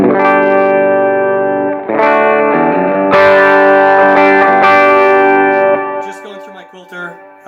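A Yamaha Revstar electric guitar played on a clean tone through a compressor and light delay rings out sustained chords and notes, loud and close, with echoing tails fading at the end.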